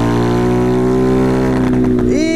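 A Fortuna moped engine runs out of petrol, its steady loud drone holding for two seconds before it stumbles and the pitch shifts as it sputters.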